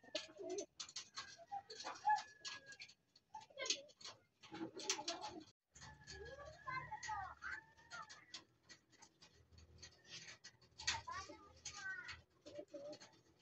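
Pigeons coo near a loft as a returning bird settles in, soft repeated throaty coos mixed with other bird calls and rustling, while someone speaks intermittently over them.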